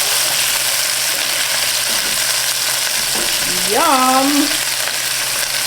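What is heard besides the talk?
crispy dill pickle chicken bites frying after flipping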